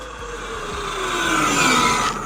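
An Arrma Kraton XL 12S electric RC car drives nearby on a mod 1.5 gear setup, its motor whine rising steadily in pitch with tire noise as it accelerates, with no talking.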